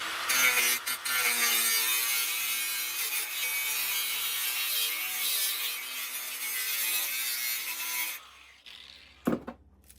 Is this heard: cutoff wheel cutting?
yes